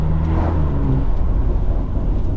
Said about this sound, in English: Like, this is how an X3M should sound